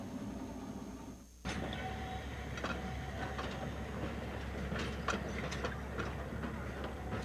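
A train on the Roaring Camp and Big Trees Railroad climbing a grade toward a switchback in 1989. Steady, moderate rolling rail noise with scattered metallic clicks and clanks continues for several seconds after a brief dip at the start.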